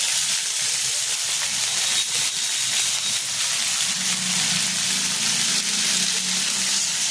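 Spices frying together with cauliflower and potatoes in a hot pan, a loud steady sizzle and hiss that runs unbroken throughout, with a faint low hum joining partway through.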